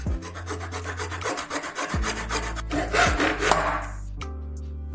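A hand saw rasps back and forth through plastic pipe in steady, even strokes, close and loud, stopping near the end.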